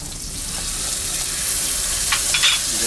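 Mushrooms sizzling and frying in a hot pan in a restaurant kitchen, a steady bright hiss with a few scraping stirs, close and continuous, no talking.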